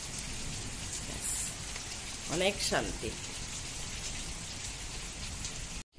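Steady rain patters down on a cool, cloudy morning, a constant even hiss throughout, with a short spoken remark partway through.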